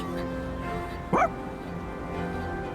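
Koromaru the dog in Persona 3 Reload gives a single short, bright bark midway through, standing out clearly over a quiet game music bed.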